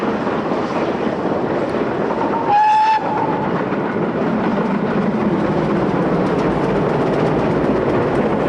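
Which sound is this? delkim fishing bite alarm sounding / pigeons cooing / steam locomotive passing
steam locomotive passing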